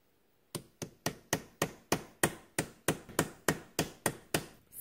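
A ball peen hammer strikes a socket to tap a seal into a VW 020 transmission, about fifteen sharp, evenly spaced metallic knocks, close and clear, each ringing briefly before the next.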